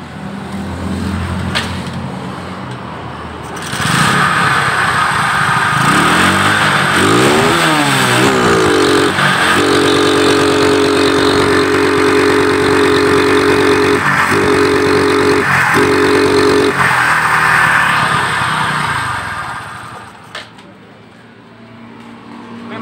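A motorcycle engine with white exhaust smoke, despite new piston rings and valve seals, starts after brief cranking and runs loudly and close, its revs rising and wavering before settling and then cutting out near the end.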